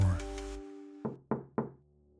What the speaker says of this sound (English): he heard a faint knock at the door